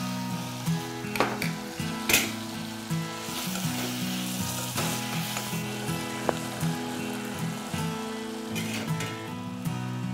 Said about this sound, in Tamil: இன்னும் கொஞ்சம் நல்லா வதங்கி வரட்டும் வதங்கி வரணும்